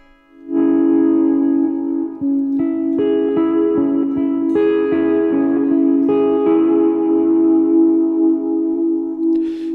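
Electric guitar played through a noise gate, delay and reverb without the Boss SY-200 synth: sustained chords with echoing tails, loud and alone.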